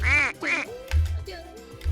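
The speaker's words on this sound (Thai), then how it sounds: "น้องเป็ดน้อย" A cartoonish duck quacks repeatedly in a Roblox-style obby game about finding burgers, loud, nasal and close, several quick quacks in a row with brief gaps.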